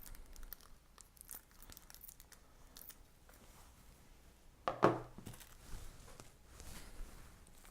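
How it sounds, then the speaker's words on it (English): A plastic bag being cut open gives one short, sharp crinkling tear near the middle, in an otherwise quiet room with faint handling noises. "I guess I am going to have to cut into this part of the bag."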